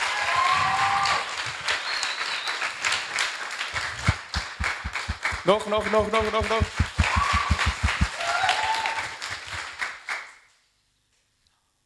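A youth camp audience applauds a speaker in a hall, with sustained clapping that builds into rhythmic unison claps before fading to silence, and a brief spoken word mixed in.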